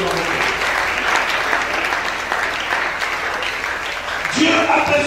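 A church congregation breaks into loud, sustained applause that fills the space as a dense, steady wash of clapping, easing off toward the end as other sounds come in.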